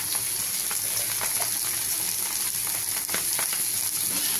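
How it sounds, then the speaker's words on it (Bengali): Ghetkol leaf stalks fry in hot oil with a little turmeric, making a dense, constant sizzle close by. Faint stirring ticks come through now and then. "তেলটা গরম হয়ে গেছে। ঘ্যাটকল পাতার ডান্ডিগুলো দিয়ে দিচ্ছি"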